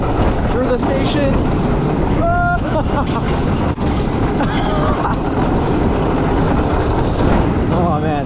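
Riders on the back row of the Tornado roller coaster at Särkänniemi in Tampere, Finland, are buffeted by loud roaring wind and rumbling track noise, with occasional shouts and talk breaking through.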